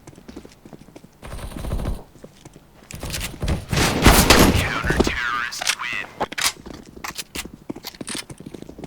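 Shotgun fire in Counter-Strike: Global Offensive: several sharp, loud gunshot bursts cluster in the middle of the clip among clicky in-game footsteps and effects, while a voice talks intermittently.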